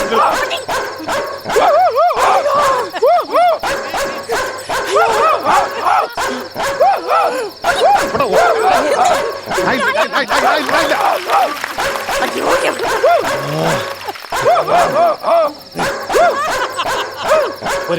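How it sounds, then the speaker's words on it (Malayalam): A dog barks repeatedly, loud and close, in quick yapping bursts with some whimpering yips, alternating with people talking throughout. "അവിടെ ഉണ്ട് പട്ടി."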